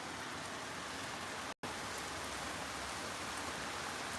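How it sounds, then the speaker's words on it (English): Rain falls outside in a dense, steady wash of broadband hiss, loud and continuous, broken only by a momentary dropout, with no voices heard. "I don't know if you can see the rain"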